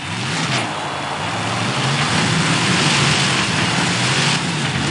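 Monster truck engines at a quarterfinal race start in a Vancouver arena roar loudly and continuously, a dense, close, rising growl with no pauses.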